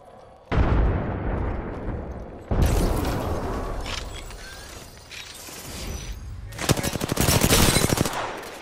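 Bursts of rapid gunfire crack out in a first-person shooter game, aimed at the player: loud sudden volleys start, fade, then return, ending in a dense rattling burst of machine-gun fire, with no voices.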